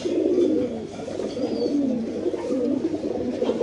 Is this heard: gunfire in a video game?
no